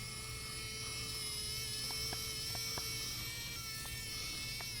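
A small cordless screwdriver whirs steadily as it loosens the battery cover screw on a toy, a thin, high motor buzz heard close and constant, with faint clicks scattered through it.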